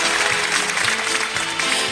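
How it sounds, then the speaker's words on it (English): Steady, dense applause from a pageant audience in an auditorium at the Miss South Africa 1991 show, a continuous wash of many hands clapping at even loudness for the whole stretch. "How about another warm round of applause, please?"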